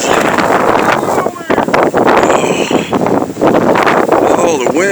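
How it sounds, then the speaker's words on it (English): Strong blizzard wind roars and buffets the microphone in loud, continuous gusts outdoors in the snow, while voices speak over it. "oh, the wind."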